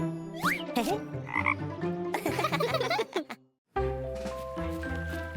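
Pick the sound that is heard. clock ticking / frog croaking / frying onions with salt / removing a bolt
frog croaking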